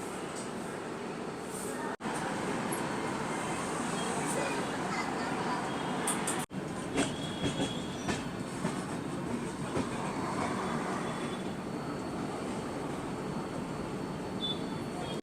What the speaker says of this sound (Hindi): तो अपने एकदम निर्धारित समय 6:25 पे अपनी राजधानी एक्सप्रेस का डिपार्चर हो चुका है रांची रेलवे स्टेशन से